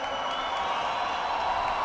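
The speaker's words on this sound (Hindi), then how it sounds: "भाई एक बार जैन साहब के लिए सभी लोग ताली बजाइए" An audience at the Khelo India closing ceremony applauds Jain sahab, a continuous wash of many hands clapping with crowd murmur, steady and moderately distant.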